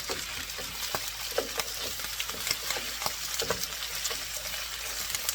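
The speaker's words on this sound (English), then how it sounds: "The vegetable I'm just going to stir fry for a minute" Vegetables stir-fry in a hot skillet for rainbow beef, sizzling while being stirred, with soft scraping and crackling pops at an irregular pace, close by.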